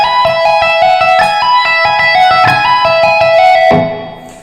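A fast scale lick on electric guitar, rapid hammer-ons and pull-offs in a triplet then sixteenth-note run, bright and loud, ending on a ringing sustained note.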